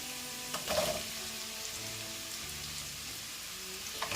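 Chopped onions frying in a pan with garlic and ginger, a soft steady sizzle like light rain, with a brief louder crackle near the start.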